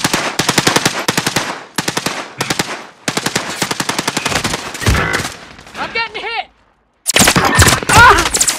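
Rapid automatic gunfire from Call of Duty Warzone in Verdansk rattles in loud close bursts separated by short gaps, with a brief chirping game effect near the end and a player speaking over it.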